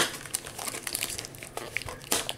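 Hard plastic wrapping comes off a trading card booster box, giving close, sharp crinkling and crackling in quick irregular bursts.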